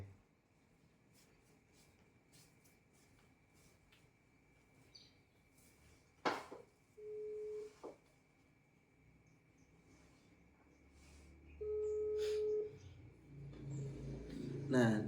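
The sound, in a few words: telephone call ringing, waiting for answer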